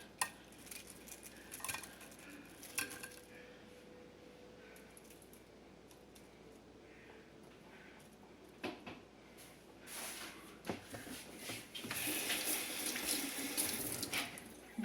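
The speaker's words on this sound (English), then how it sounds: "Give my hands a little rinse" A kitchen tap runs while hands are rinsed beneath it. The hiss of the water is faint at first, then grows louder and fuller toward the end, with small clinks around it.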